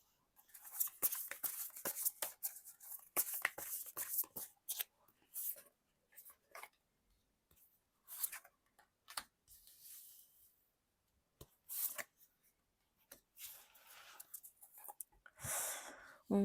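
Tarot cards are shuffled by hand in a quiet room, bursts of crisp riffling and slapping in uneven clusters with short pauses between, close and soft overall.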